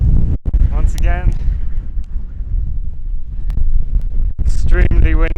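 Strong wind buffets the microphone on the exposed hilltop of Sheepstor tor, a loud continuous low roar with gusts throughout, while a person talks briefly near the start and again at the end.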